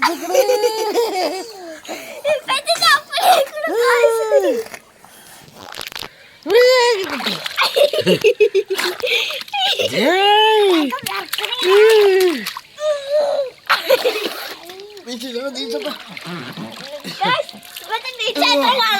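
Children play in a home-made backyard swimming pool, with water splashing up close among bursts of giggling, loud laughter and excited kids' chatter.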